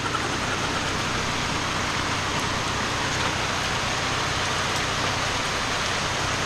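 Steady rain pours down outdoors, a dense, even hiss that stays constant and fairly loud throughout with no voices over it.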